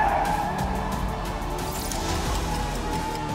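An Audi held in a steady drift, its tires skidding and its engine droning continuously and loudly, with no break in the sound.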